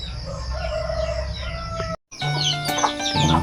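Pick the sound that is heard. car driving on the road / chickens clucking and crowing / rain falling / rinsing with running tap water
chickens clucking and crowing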